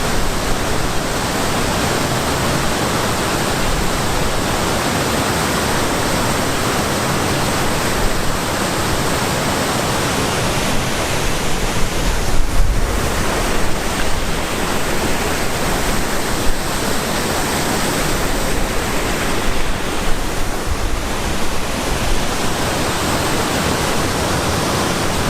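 A fast-flowing stream of water in the Scottish Highlands gives a loud, steady broadband rush that stays constant, with no voices heard.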